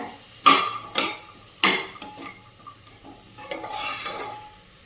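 Green peas and potato being sautéed in a pan for a rice dish, with several loud scraping stirs and clinks of a spoon against the pan over a soft background sizzle.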